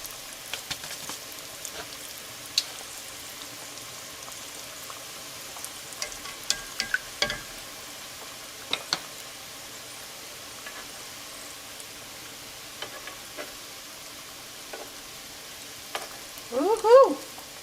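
Mexican corn dogs made with masa frying in a pot of oil, a faint steady sizzle with scattered pops and crackles and a short louder burst near the end, without talk.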